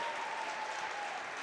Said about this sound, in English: Jenna Holman will check in for Thea Johnson, who gets a standing round of applause tonight.